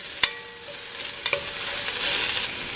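Onions and other ingredients for a one-pot vegan cheesy pasta cook in a pot over medium heat, a close, steady sizzle with a few clinks and scrapes of stirring and no voices.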